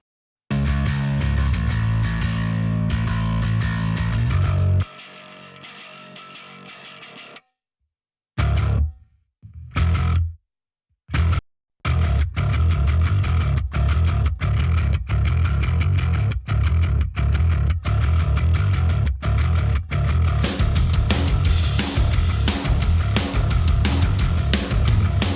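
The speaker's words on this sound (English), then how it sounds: "So the bass sounds like this." Bass guitar run through amp simulator distortion and compression, loud and gritty: a sustained riff that drops to a thinner passage, then choppy stop-start hits with silent gaps before a dense, continuous distorted groove returns.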